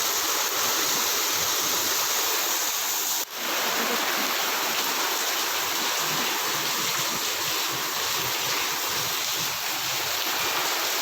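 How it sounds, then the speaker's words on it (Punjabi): A dense, steady roar of heavy rain pours down without pause, broken once by a brief dull knock. "ਤੂਫਾਨੀ ਮੀਂਹ ਆ ਗਿਆ"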